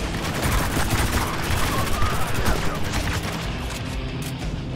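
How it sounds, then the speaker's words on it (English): Gunfire in the video game Spec Ops: The Line, dense overlapping bursts of automatic shots and heavy booms in continuous rapid succession. "Now they're shooting at me."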